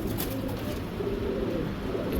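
Female pigeon at a pigeon sale, cooing softly and repeatedly over a steady low background murmur, fairly close.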